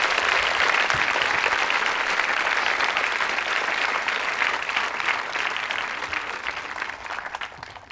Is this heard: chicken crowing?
no